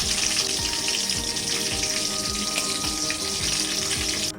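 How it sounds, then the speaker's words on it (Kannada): Chicken kebabs fry on a high flame, giving a loud, steady oil sizzle with regular stirring scrapes that runs almost throughout and cuts off abruptly at the end. "ಹೈ ಫ್ಲೇಮಲ್ಲಿ 2 ಕಡೆ ಚೆನ್ನಾಗಿ ಫ್ರೈ ಮಾಡ್ಕೋಬೇಕು"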